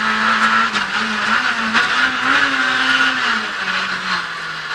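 A 1996 British Rally Championship rally car on a gravel stage revs hard through a handbrake turn, a loud, close engine note rising and falling continuously with gravelly skidding noise throughout.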